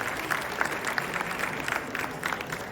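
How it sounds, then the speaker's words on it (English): An audience at a Diwali celebration on Capitol Hill applauds the event sponsors, a moderate wash of many hands clapping heard at some distance, steady for a few seconds with no talk over it. "Give them a big round of applause."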